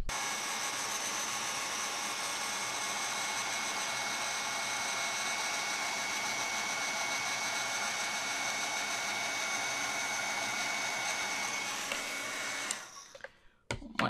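A heat tool warms an embossed card with a steady, loud, fan-like whir that runs unbroken until it clicks off near the end.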